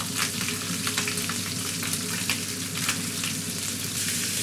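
Poultry searing skin side down in a hot pan alongside the carcass, a steady dense sizzle and crackle running the whole time, close and even with occasional brighter spits.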